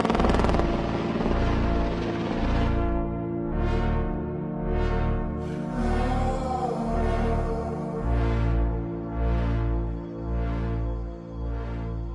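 A military helicopter fitted with chaff and flare buckets on both sides gives off a loud, continuous rotor thrum and engine drone, with rhythmic whooshing sweeps that swell and fade as it moves, no voices present.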